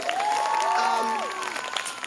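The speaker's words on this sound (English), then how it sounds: "So, round of applause for you." Applause from the audience at the Governor's School East 2021 closing convocation: a moderate, even spatter of clapping with some cheering, while a voice talks over it.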